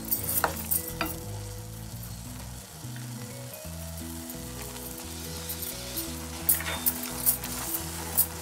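Beetroot halva with added nuts stirred in a pan, a steady frying sizzle with scraping spoon strokes running throughout, close and moderately loud, while faint music plays underneath.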